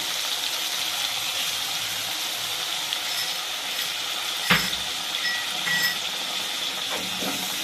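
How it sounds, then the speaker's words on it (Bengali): Water poured into a sizzling spice mixture cooked in oil for a vegetarian fish-style dish, giving a steady hiss with a brief splash and bubbling partway through. "আবার আমি এখানে জল দেবো"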